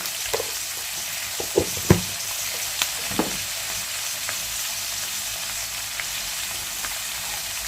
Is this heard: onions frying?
yes